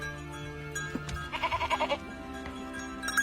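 A sheep bleats once with a wavering, pulsing cry over a low steady background hum, mid-distance and moderately loud.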